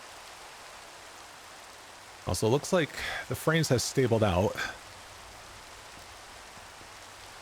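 Steady, faint rain falling in Minecraft, a soft even hiss running throughout, with someone talking briefly in the middle over it.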